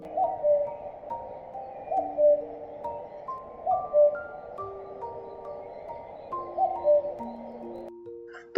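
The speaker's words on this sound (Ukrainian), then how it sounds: "Так, так, це зозуля." A common cuckoo's repeated two-note call rings out at a steady pace, clear and fairly near, over a quiet background with faint tonal sounds in between.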